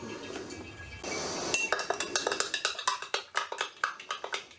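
Metal measuring spoons clink and tap together in quick light succession while measuring granular potassium sorbate for blackberry port wine, a soft brushing rustle first, then a rapid run of small bright clinks close by.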